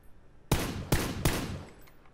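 Gunfire from PUBG aimed at a car's tires: three sharp, loud shots spaced roughly a third of a second apart, each with a short ringing decay.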